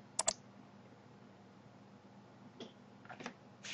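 Computer mouse clicks while working in the Contao content management system, a quick double click near the start, then a few softer, scattered clicks against a quiet hum.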